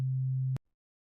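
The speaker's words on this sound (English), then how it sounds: "And a sine wave by itself sounds like this." A synthesizer oscillator produces a pure, steady sine tone that holds at an even level for about half a second, then cuts off abruptly into silence.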